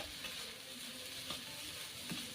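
Soft, steady sizzling of food frying in a pan, with faint scraping of a utensil now and then.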